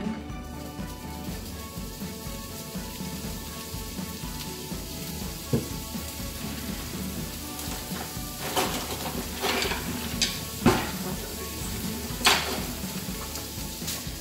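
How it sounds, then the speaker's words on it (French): Bacon frying in a pan, a soft continuous sizzle with occasional sharper crackles and pops, steady and fairly quiet, with no talking. "on va commencer par faire cuire le bacon"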